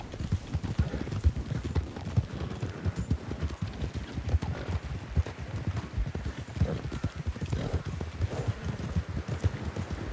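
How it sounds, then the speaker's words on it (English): Horse hooves clip-clop steadily in Red Dead Redemption 2, a continuous rhythmic trot of moderate loudness with no other sounds prominent. "That looks like a really nice horse."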